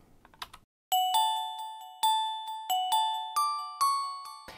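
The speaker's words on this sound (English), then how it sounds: "So this bell is just a bell from Halion Sonic." An unprocessed synth bell preset from Halion Sonic plays a short melodic phrase of clean, bright struck tones, each note ringing and decaying before the next, about eight notes in all, preceded by a brief click.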